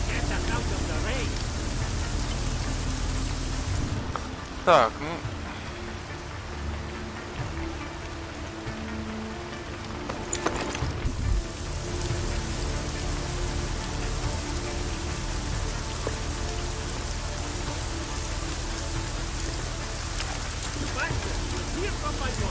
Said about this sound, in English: At least get us out of the rain.